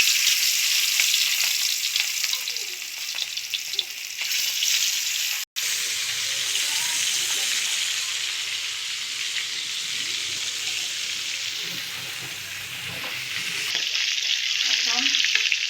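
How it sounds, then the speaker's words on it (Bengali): Pangas fish sizzling steadily in hot oil, a loud continuous crackle and hiss close by with a brief cut near the middle, swelling slightly toward the end; no talking. "গরম হয়ে গেছে, এখন মাছ দিব।"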